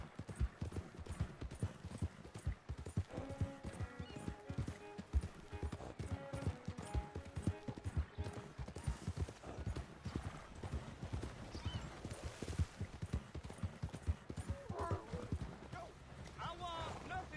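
Horse hooves clip-clop steadily in Red Dead Redemption 2, a dense rhythmic beat running the whole way alongside game music and an occasional whinny.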